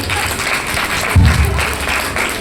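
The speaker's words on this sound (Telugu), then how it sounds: "క్లాప్స్ అందరూ." Audience applause at a Zacchaeus skit during Vacation Bible School, steady close clapping from a crowd filling the whole short stretch, with a brief low thump partway through.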